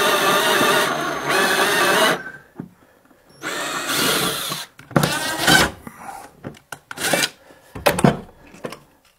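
A power drill driving a screw into an MDF stair tread during a creaky stair repair, in several loud bursts of whirring with short pauses and scraping handling noises between them, close by.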